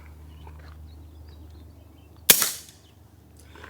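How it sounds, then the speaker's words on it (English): One suppressed .38 Special shot from a lever-action rifle cracks once, short and sharp, with the hammer dropping, then decays quickly over a quiet outdoor background. "That's the sound of the hammer dropping."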